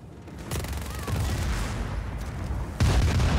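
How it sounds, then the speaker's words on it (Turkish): Loud, rumbling video game explosions in Just Cause 4 crash in quick succession, with dense crackling booms that swell and hit again near the end. "Bu kadar büyük patlayış onu hayal etmemiştim"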